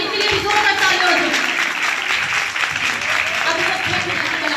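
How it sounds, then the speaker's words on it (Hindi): A church congregation claps loudly in sustained, dense applause to welcome guests during a Hindi-language worship service, the clapping steady and close throughout. "जोरदार तालियों में एक बार आदमी के लिए भी जोरदार तालियां हो।"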